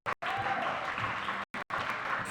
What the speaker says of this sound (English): Let me hear you make a rousing round of applause for both of our competitors.